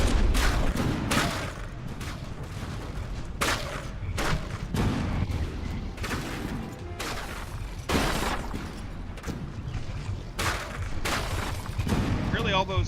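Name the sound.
naval gunfire in video game From The Depths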